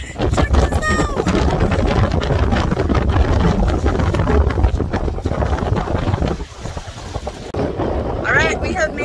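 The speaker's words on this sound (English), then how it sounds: "I'm gonna show you how windy it is." Strong wind at the shore of Lake Huron buffets the microphone in heavy, continuous gusts and rumbles, with someone talking under the roar at times.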